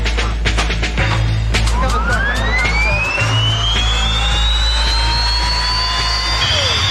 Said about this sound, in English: And that's the sound of a jet funny car.